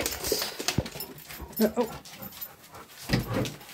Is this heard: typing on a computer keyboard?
no